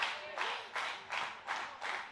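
A wrestling crowd claps in a steady rhythm of about five bursts, rallying behind Dani Mo during a match between Lady Frost and Dani Mo, with faint speech beneath.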